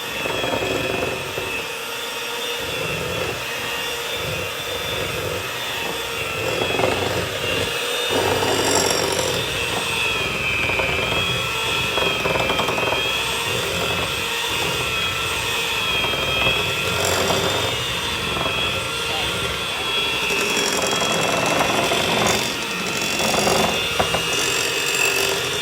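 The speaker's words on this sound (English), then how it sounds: "here she's creaming the maple sugar" Electric mixer creaming maple sugar and butter for cookie dough, a loud, continuous motor whir running steadily close up for the whole stretch without pause.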